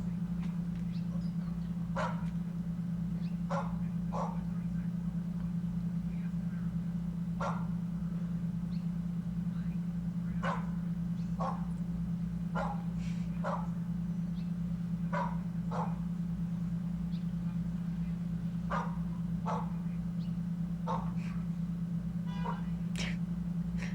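A dog barks in short sharp bursts, singly and in pairs, spaced irregularly over a steady low electrical hum, fairly near and moderately loud.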